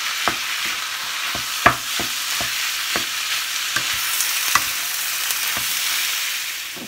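Vegetables stir-fried in a hot pan with a wooden spatula give a steady close sizzle, broken by a run of sharp scraping and tapping strokes about every half second, with one louder knock near the start.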